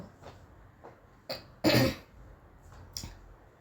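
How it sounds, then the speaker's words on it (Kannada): One short, dry cough bursts out nearby amid a few faint clicks and throat noises, with no speech. "ಏನು ಒಣಗಿದ ಕೆಮ್ಮು ಬಂದಂಗೆ ಆಗುತ್ತೆ"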